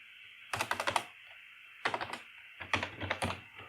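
Computer keyboard keys typed in three quick rapid bursts with short pauses between them, close and clear, while code is written for a ReactJS navbar menu, with no speech.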